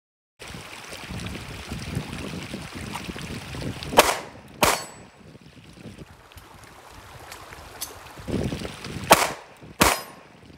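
Four sharp, loud handgun shots ring out during solo shooting practice with a Glock 43X or Sig Sauer P365. There are two pairs, about a second apart within each pair and roughly five seconds between the pairs, over faint outdoor wind.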